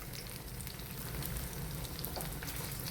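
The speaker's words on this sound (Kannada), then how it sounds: "ನೋಡಿ ಈ ಥರ ಫ್ರೈ ಆಗ್ತಾ ಇರಲಿ ಒಂದು ಕಡೆ" Kerala-style banana poori frying in oil, a dense, even sizzle with crackling bubbles, close and steady throughout with no voices.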